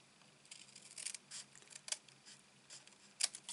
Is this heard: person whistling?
no